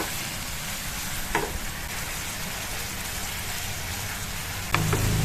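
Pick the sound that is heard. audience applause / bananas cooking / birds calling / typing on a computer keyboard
bananas cooking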